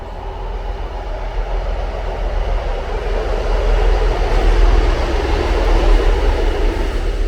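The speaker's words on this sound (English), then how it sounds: "there's a train coming over" A heavy train rumbles across a viaduct with a steady roar that slowly builds louder, no voices.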